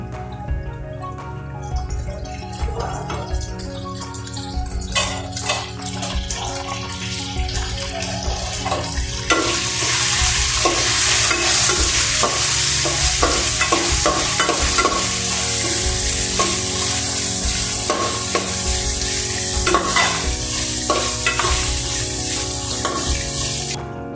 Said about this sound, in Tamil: இந்த டைமில் கத்திரிக்காய் அரை பதத்துக்கு நல்லா வதங்கிடுச்சு